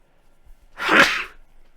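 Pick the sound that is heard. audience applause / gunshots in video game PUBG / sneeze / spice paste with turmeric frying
sneeze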